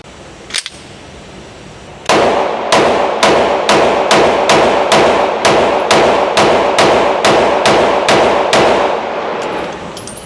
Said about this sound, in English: I was shooting pretty fast, just aiming for the general vicinity